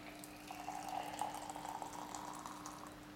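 Boiling water from an urn is poured into a container to rehydrate plant material, making a steady, close filling splash that runs for a few seconds with no talk over it.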